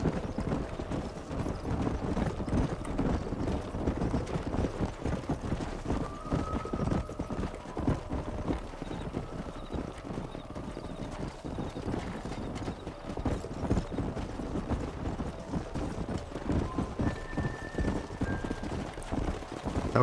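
Horses gallop in the Red Dead Redemption video game, a continuous rapid clatter of hooves on ground with an occasional whinny, steady and fairly close throughout.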